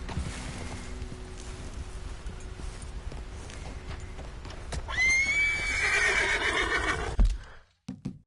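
A horse in Red Dead Redemption 2 gives a loud, drawn-out neigh and whinny over steady hoof clip-clop and outdoor ambience, ending with a short snort and a brief drop to silence.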